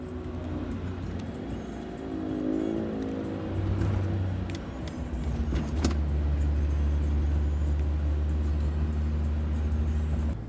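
Inside a car driving through city streets, a continuous low engine and road hum shifts pitch as the car speeds up and slows, with a brief click partway through.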